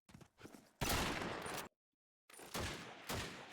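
Shotgun fire in a Call of Duty 2 tournament match: loud, close blasts in quick bursts, one early, a long roaring run, a short silence, then more shots.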